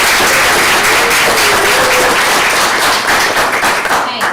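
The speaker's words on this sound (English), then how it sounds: "Let's give them a round of applause." A steady, dense wash of audience applause at a school board meeting, loud and continuous from many hands clapping together.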